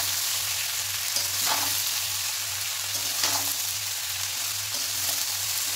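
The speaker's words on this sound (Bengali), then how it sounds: "এবার আমি কেটে রাখা বাঁধাকপি দিয়ে দিচ্ছি, দিয়ে ভালোভাবে কষিয়ে নেব।" Chopped cabbage stir-fried with spices in a hot pan, a steady close sizzle with occasional scraping stirs, with a low hum underneath and no talking.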